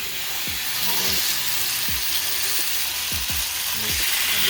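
Ribeye steaks sizzling hard in a hot pan, a loud continuous fry with a few soft knocks and thuds as meat is placed and handled, no talking.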